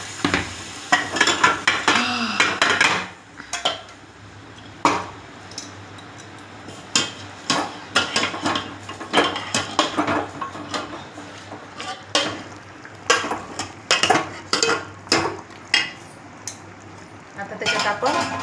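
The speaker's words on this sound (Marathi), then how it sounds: "आता त्याच्यात आपण हे शिजलेलं गावरान चिकन टाकूया" Cooked country chicken tipped into oil-fried masala in a pan, with repeated metal spoon scrapes and clanks against the pan over a low sizzle, irregular and close.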